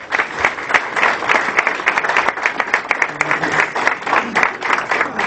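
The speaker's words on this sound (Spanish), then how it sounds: "Un fuerte aplauso" Audience applause at a public lecture on the water crisis, a burst of close, loud, dense clapping lasting about five seconds.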